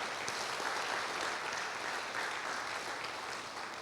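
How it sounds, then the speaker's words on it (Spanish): A church congregation claps steadily at a Sunday retreat service, dense continuous applause filling the room from start to finish with no voices rising above it. "Dele un aplauso al Señor"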